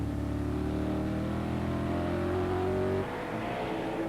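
TVR Tuscan race cars racing at Snetterton in 1994, with loud, close, sustained engine roar and a rising pitch under power, then an abrupt drop as the note changes, with no speech.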